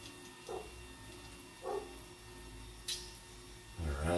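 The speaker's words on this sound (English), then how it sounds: "I can hear my silly dog out there barking." A dog barks a few times at a distance, single muffled barks spaced apart over a steady electrical hum, with a louder deep bark at the end.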